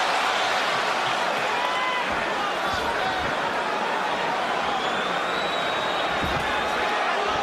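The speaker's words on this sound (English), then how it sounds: "Crowd reacting to anything Cotto puts forth." A boxing arena crowd keeps up a loud, steady roar through a bout between Miguel Cotto and Shane Mosley, a dense wash of voices with scattered shouts.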